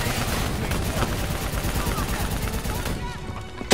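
Dense gunfire fills a Call of Duty Black Ops 3 battle, a continuous loud clatter of rapid shots and explosions with voices shouting under the din.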